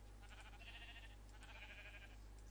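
Minecraft sheep bleating in two drawn-out calls, quiet and steady over a constant low game hum, with no talk.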